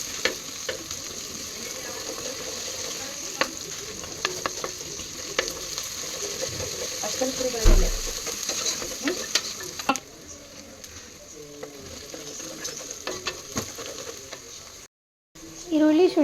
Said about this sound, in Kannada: ಇವಾಗ ಸ್ವಲ್ಪ ಲೈಟಾಗಿ ಶುಂಠಿ ಬೆಳ್ಳುಳ್ಳಿ ಪೇಸ್ಟನ್ನು ಹಾಕೊಳ್ಳೋಣ.